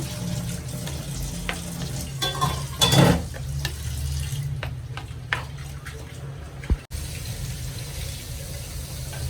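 Mango pulissery cooking in ghee: a steady soft sizzle with scraping stir strokes and occasional clinks of utensils against the pan, close and continuous.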